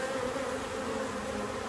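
Honeybees at an opened nucleus colony hive, many returning with pollen on their legs, give off a steady, dense buzzing hum that stays close and even throughout, with no voices over it.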